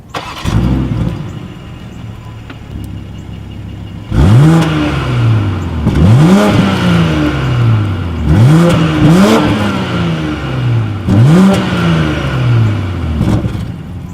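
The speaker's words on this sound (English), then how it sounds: "As always, here is that exhaust clip." A 2019 BMW X5 SUV engine revs hard several times through dual exhaust in rhythmic bursts, each roaring up and falling back, a deep rumbling exhaust note close by after a quiet idle.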